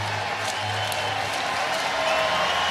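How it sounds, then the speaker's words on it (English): Crowd applause at a Pirates versus Cubs MLB ballpark in 2025, a broad, steady wash of clapping and murmur filling the stadium for the whole stretch with no clear voice on top. "the crowd once again applauding the ball boy racing over from near the Cubs dugout along the third base line behind home plate to pick up the ball"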